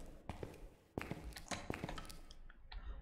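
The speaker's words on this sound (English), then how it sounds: "That was definitely the ghost opening that door." A ghost opens a door in a ghost-hunting video game: a few soft taps and thuds with a creak-like clatter, close and fairly quiet over a low room ambience.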